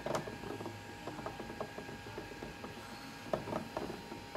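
A homemade dual gear magnet motor spins steadily, its gears giving off a continuous run of small clicks and rattles, with a few sharper ticks standing out near the machine and no one talking.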